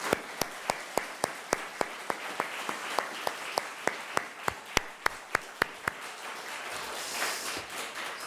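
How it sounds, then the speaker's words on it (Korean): A church congregation claps in unison, sharp evenly spaced claps in a steady rhythm that gives way to scattered, looser applause near the end, heard from a moderate distance. "힘차게 박수 한번 올려드리고 고맙겠습니다."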